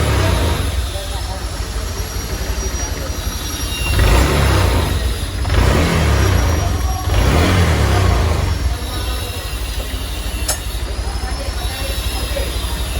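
A Honda Vario 150 LED scooter engine idles with a steady buzz, then swells into a couple of louder revving bursts in the middle before settling back to idle.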